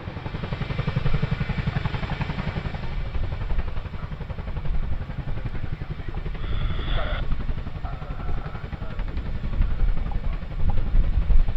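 RAF helicopter manoeuvring and setting down at the Cosford airshow, a steady rapid rotor chop and turbine drone held close and loud throughout, with a faint voice briefly audible.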